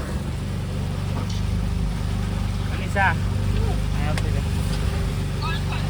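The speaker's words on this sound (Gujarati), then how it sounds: "એક બોટ આગળ અમારી જાય છે" A boat engine on a Kerala backwater ride hums as a steady low drone throughout, while people chat over it nearby.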